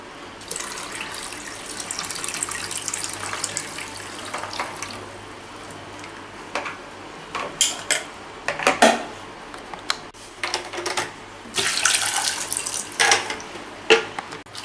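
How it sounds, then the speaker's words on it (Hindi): Soaked chickpeas are washed under running tap water for Amritsari pindi chole, with a steady trickle broken by irregular louder splashes and swishes as the chickpeas are rinsed by hand. "और दो तीन पानी से इसको हम अच्छे से वॉश करेंगे।"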